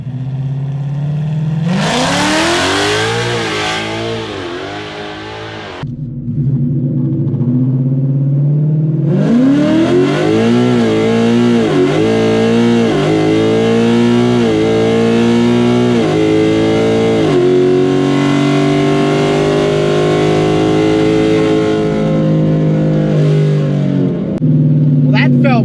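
A 2024 Ford Mustang drag car on a drag strip, its engine roaring loud and close as it climbs through the revs, drops briefly at a gear change, then pulls hard again for a sustained run.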